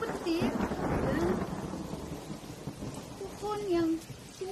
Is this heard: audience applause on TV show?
no